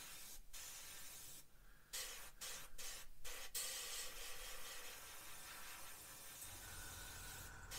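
A Gaahleri airbrush spraying paint to add exhaust staining on a scale model gives a soft, steady hiss broken by several brief pauses as the trigger is released, then a long continuous spray, faint and close.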